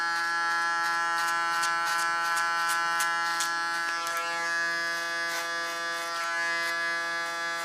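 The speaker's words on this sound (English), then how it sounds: "You can also hear the difference between a Panasonic clipper and a Keone clipper." Wireless electric hair clipper cutting hair, a close steady high-pitched buzz with a rich harmonic whine, broken by repeated short crackling snips as blades pass through hair, no talking.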